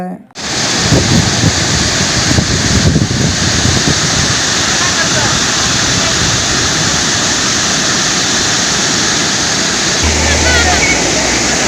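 Jari waterfall, swollen with monsoon rain, roars in a loud, steady, unbroken rush of falling water that fills the scene from start to finish.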